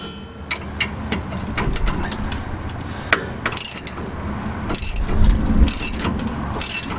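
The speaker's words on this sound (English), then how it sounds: "So now we'll tighten the bottom ones." A ratchet wrench tightens the bottom nuts of a 2004–2015 Ford F-150 shock, with rapid clicking pawl strokes repeated in bursts and clanks of metal on metal, close and loud, with no speech.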